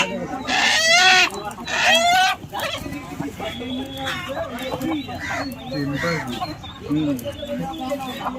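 A rooster at a market clucks and squawks loudly up close in short bursts, with people talking around it.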